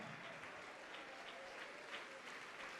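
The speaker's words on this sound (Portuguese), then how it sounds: "Vamos aplaudir mais" A church congregation applauds during a worship service, a steady wash of clapping from many hands heard from a distance, faint and continuous without pauses.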